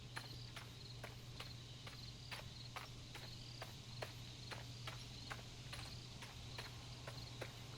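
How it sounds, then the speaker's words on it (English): A horse walks in the video game Legends of Aria, its hooves clip-clopping in a steady, even rhythm over a soft ambient bed of insect-like chirping and a low hum. "Probably just a horse walking."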